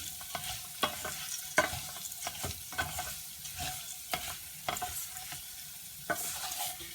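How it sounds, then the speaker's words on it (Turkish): Rice sautéing in a pan for chickpea pilaf, a quiet sizzle punctuated by irregular scraping and clicking spoon strokes, close up with no talking. "Pilavlarım böyle birbirini tutup kum tanesi gibi dağılıp dağılacak kıvama gelene kadar pirinçlerimi iyice kavuruyorum"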